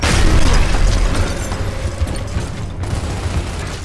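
A frag grenade detonates in Gears of War as a loud, broad rumbling blast that fills the clip and slowly fades through a noisy, debris-like tail.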